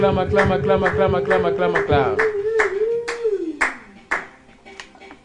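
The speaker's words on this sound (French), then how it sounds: "Acclamons pour le Seigneur Jésus-Christ." A church congregation clapping in a rhythmic beat while a voice sings or calls out a sustained melodic line over the claps, which fade toward the end.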